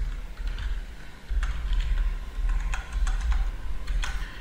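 Computer keyboard keys tapped in quick irregular bursts, close and clear over a low room hum, as a password is entered.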